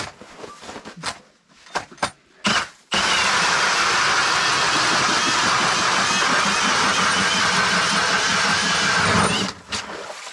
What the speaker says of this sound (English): So we always use auger.